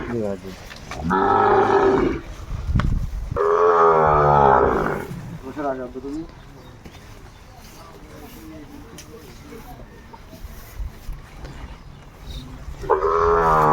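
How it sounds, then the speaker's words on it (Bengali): Sahiwal cattle moo loudly nearby at a Chattogram farm, two long drawn-out calls followed by another starting at the end, with people talking in the background between them. "একেবারে হাই লেভেলের গরুগুলো গাধাগুলো একটু দেখান তো সাগর ভাই"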